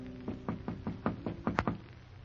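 A series of about eight knocks on a door, fairly close, in an uneven rhythm that quickens toward the end.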